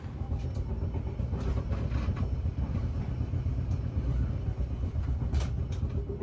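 Interior of the Brawijaya executive passenger train running between Malang and Blitar: a steady low rumble and rolling wheel noise fill the cabin continuously, with occasional brief higher clicks and rattles, close and even throughout with no talking.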